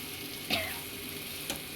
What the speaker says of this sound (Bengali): দিয়ে একটু ভালো করে কিন্তু কষাতে হবে।